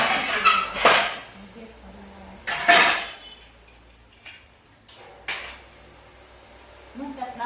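Kitchen dishes and utensils, including spoons, being set out and arranged, with a few distinct clinks and clatters spaced across the stretch over a quiet room background.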